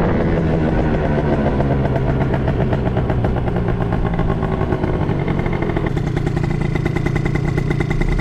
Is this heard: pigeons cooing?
no